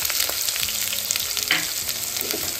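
Onions frying in a pan with cumin, garlic, curry leaves and green chillies for a Kannada-style methi pappu, a steady close sizzle with occasional stirring scrapes, no talking.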